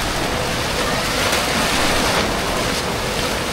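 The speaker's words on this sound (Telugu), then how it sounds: "బాగా అలలు నూకుతున్నాయి గాయస్" Waves surge and crash in the wave pool at Wild Waters water park, a steady broadband roar of churning water with no clear breaks.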